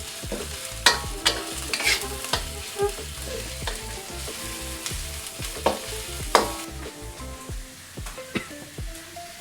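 Beef and garlic stir-frying over medium heat in a pan for Thai holy basil beef fried rice, a steady sizzle broken by repeated scraping strokes of a spatula, close and loud.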